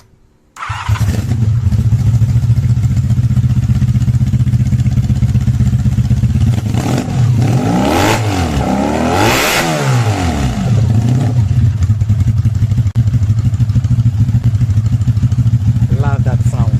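A motorbike engine starts and idles loudly up close, revving up and down a few times with a rising and falling whine before settling back to a steady chug.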